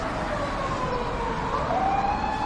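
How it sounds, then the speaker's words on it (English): An ambulance siren wails steadily in the distance, its pitch slowly rising and falling over low traffic noise. "Oh, don't worry, it's just an ambulance."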